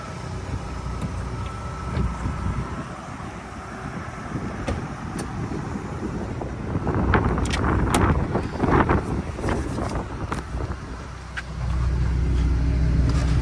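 Interior road noise of a 1980s car being driven, a steady engine and tyre rumble with wind buffeting and rattles that grows louder toward the end, with no talking.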